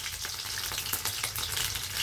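Chopped onion, garlic and slit green chili fry in oil for a dish of mixed greens, making a continuous close sizzle with light stirring scrapes and crackles, no voices.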